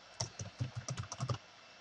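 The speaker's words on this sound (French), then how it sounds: "Touche entrée du clavier" Typing on a computer keyboard in veterinary client management software, with about a dozen quick, close key clicks in a fast, uneven rhythm, including a press of the enter key.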